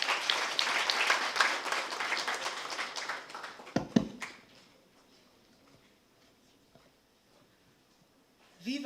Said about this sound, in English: Please clap for her as she comes.